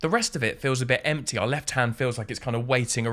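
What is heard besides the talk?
No distinct noise like a dog, phone or traffic.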